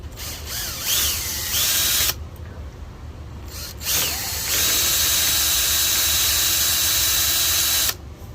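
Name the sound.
drilling into a door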